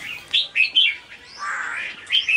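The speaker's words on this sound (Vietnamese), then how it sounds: "Này là em kè với mấy con chim em nhốt ở lồng tập trung anh em nhé." Several caged songbirds chirp close by, with loud, bright, short calls in quick bursts and one longer warbled phrase, no voices heard.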